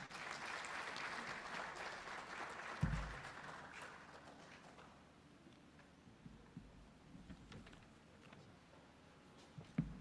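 A seminar audience of judges gives a soft, distant round of applause that fades gradually, with a few louder claps and knocks near the end.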